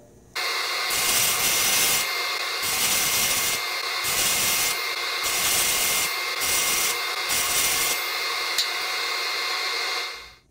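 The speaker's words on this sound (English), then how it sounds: "And now I'm going to cut the dados for the side supports." A saw blade cuts dados across plywood for the side supports of a cross-cut sled, a loud, steady whine repeatedly rising and dipping in about seven even passes, alone and close.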